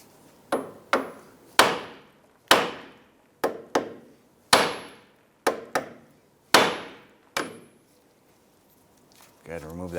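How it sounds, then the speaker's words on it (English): Sharp metallic hammer blows strike the steering knuckle of a 2001-2007 Ford Escape to free the outer tie rod end, about a dozen loud ringing hits in irregular pairs and singles, each decaying quickly, with a brief rustle at the end. "I'm going to use a hammer and I'm going to strike the knuckle right here"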